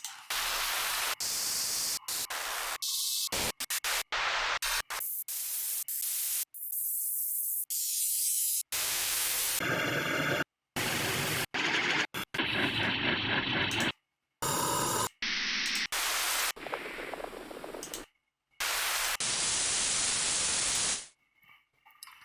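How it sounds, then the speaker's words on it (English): Processed and resampled white noise textures burst in abrupt, choppy segments, each a different hissing or static-like colour, separated by sudden cuts and short silences. "a bunch of different really textured noise sounds"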